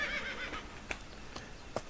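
A horse in the farming video game Oak Field Farm gives a faint, short whinny over a soft ambient background, with a couple of light hoof-like clicks.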